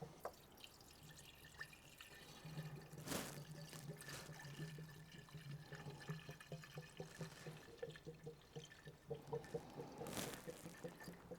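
Water poured into the coolant reservoir of a Vauxhall Corsa D 1.2, a faint, steady trickle and splash with a few louder splashes along the way.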